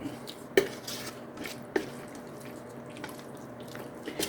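A spoon scrapes and stirs pumpkin around inside a heated pot, with a couple of distinct clinks against the side and soft, wet shifting between them.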